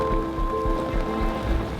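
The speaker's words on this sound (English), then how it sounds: "Gusts picked up and the rain started blowing sideways." Gusty rain blows across a canal boat, a dense steady wash of spattering drops with bursts of wind, close and fairly loud for a couple of seconds.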